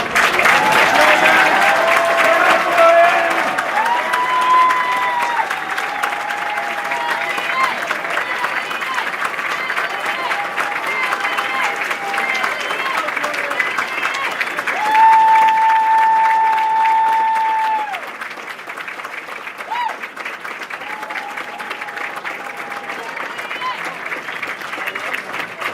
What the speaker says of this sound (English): a round of applause for Jillian.